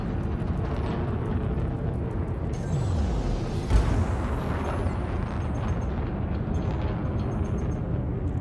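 A ship blowing apart as a target is destroyed during bounty hunting in a Federal Assault Ship in Elite Dangerous, a loud rumbling blast with a sharp burst in the middle over a continuous dense roar.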